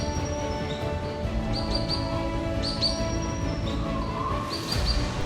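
Swift parrots call in a flowering blue gum forest in the southern forests of Tasmania, giving short, sharp chirps in small clusters at a moderate distance, with a steady background hum.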